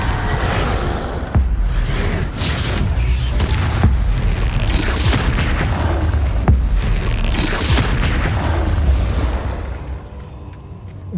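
Bombarda spell explosions in the video game Hogwarts Legacy boom repeatedly through a dense, loud stretch of heavy blasts and whooshing bursts mixed with game noise, ending more faintly.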